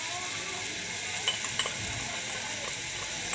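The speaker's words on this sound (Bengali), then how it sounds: "দিয়ে মশলাটাকে ভালো করে নাড়লাম কড়ার মধ্যে" Salted spice masala for egg tarka fries in a large wok, giving a steady low sizzle with a few soft scraping clinks as it is stirred.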